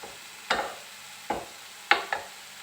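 A spoon stirs a vegetarian squash curry in a pan, giving four distinct scraping strokes spaced unevenly over a soft background sizzle, close and clear with no talking.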